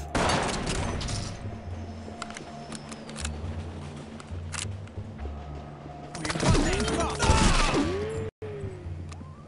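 Gunfire in the SWAT 4 tactical shooter, with sharp shots and bursts early and near the end, under in-game radio chatter and mechanical clicks and rattles.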